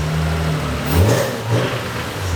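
A Nissan 350Z engine idles roughly and then blips in a few short revs that rise and fall, close and loud in a workshop, with no talking over it.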